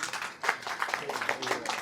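An audience claps through at a youth club's Republic Day program in Banaras, a steady, moderately loud patter of many hands with brief swells, heard alone.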